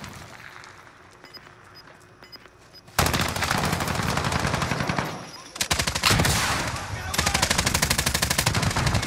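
Video game gunfire starts with a faint patter, then erupts into loud, sustained automatic bursts, breaks off briefly, and resumes in dense rapid volleys.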